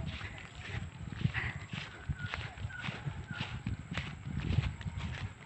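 A carabao water buffalo moving close by on a farm, with scattered hoof clops and shuffling steps over a rough outdoor background, fairly faint, with people talking around it.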